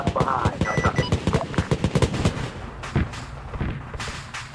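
Rapid gunfire in Arma 3, dense bursts of close, punchy shots and thuds in an irregular rhythm across the whole stretch, with no clear talk over it.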